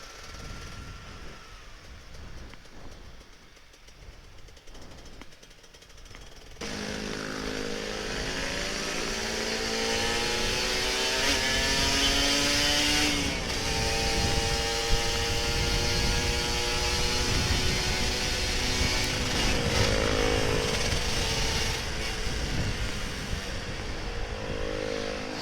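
A Kawasaki Ninja RR 150 two-stroke motorcycle revs hard after a quiet start, its engine note rising and holding loud and close with a strong layered buzz for most of the stretch.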